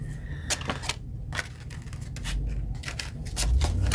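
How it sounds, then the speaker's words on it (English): Tarot cards are shuffled up close in a series of quick papery riffles and slides, soft and uneven, with short pauses between bursts. "And then shuffle them up again."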